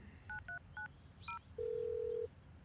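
Mobile phone keypad dialing in a football cartoon: three short beeps in quick succession, a brief higher chirp, then a single longer steady tone, heard alone and fairly quiet.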